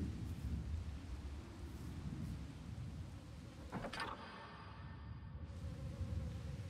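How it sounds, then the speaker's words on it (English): Steady rain falling outside at night in Walking Simulator 2017, a dense continuous patter with low rumbling underneath, broken by one brief sharp crack near the middle before the downpour carries on alone. "raining outside"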